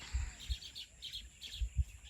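Baya weaver birds at their hanging nests in a village give faint, distant chirps in short clusters, with low thumps and steady background hiss and no voices.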